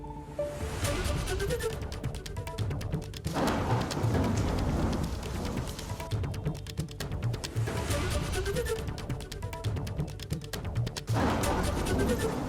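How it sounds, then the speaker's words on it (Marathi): A heavy downpour during a thunderstorm with strong wind in Amravati makes a loud, dense roar of rain. Gusting surges and low rumbles swell and fade across the scene. "जोरदार वादळ आणि विजांच्या कडकडाट यामुळे मुसळधार पाऊस पडला"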